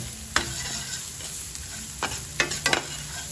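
Garlic sizzles in a pan while papaitan na baka cooks, with a steady frying hiss. A few sharp clinks and scrapes of a utensil come near the end.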